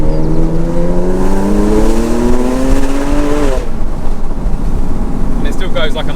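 A Porsche 911 convertible with the roof down revs up in a rising engine note through a manual-mode gear, then the pitch drops sharply at the shift, heard from inside the car with a voice talking under the engine.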